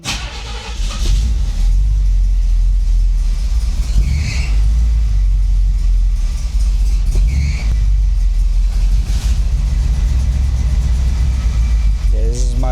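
A full-scale lowrider car idles steadily throughout, a deep continuous rumble with a couple of slight surges, close and loud with some handling noise on top.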